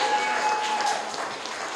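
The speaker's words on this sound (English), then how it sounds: "So a round of applause for the organizers," Applause for the organizers at an Africa Music Awards press launch in 2010, a steady wash of clapping from a gathered audience, moderately loud and continuous, with a faint tone running beneath the first half.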